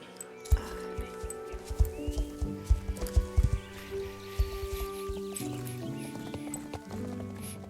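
Horse hooves clip-clop at a steady ride through the Star Stable video game world on the way to a pasture, with occasional whinnies and layered game music underneath.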